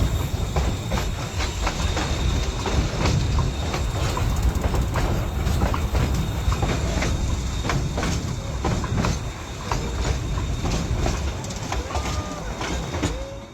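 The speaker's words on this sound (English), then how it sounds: "This trestle sits 137 feet above the canyon floor and has been carrying trains for nearly 140 years." A train rolling across a tall, nearly 140-year-old trestle high above a canyon floor, steady loud rumble and rhythmic clickety-clack of wheels on rail joints, with a faint squeal near the end.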